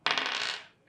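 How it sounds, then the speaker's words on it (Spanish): Dice rolled in a board game rattle briefly and sharply, a single quick clatter that fades within a second. "Entonces volveríamos a tirar los dados."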